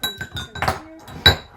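A little spoon presses cocoa powder clumps through a metal sifter, giving several quick, bright metallic clinks and taps close up, irregular and separated by brief pauses.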